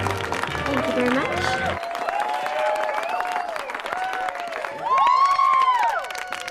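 A class of children breaks into applause for one another, scattered clapping and cheering mixed with voices and music in a lively classroom scene.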